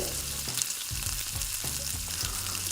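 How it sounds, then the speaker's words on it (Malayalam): Chopped onion sizzling in hot oil in a pan, a steady bright frying hiss with occasional stirring bumps, close and alone. "വലിയ ഉള്ളി ഒന്ന് ചെറുതായിട്ടൊന്ന് അരിഞ്ഞെടുത്തിട്ട് അതൊന്ന് കൊത്തി അരിഞ്ഞ് വെച്ചതാണ് കേട്ടോ അതുമായ ഒരു എണ്ണയിലേക്ക് ചേർത്ത് കൊടുക്കുന്നുണ്ട്"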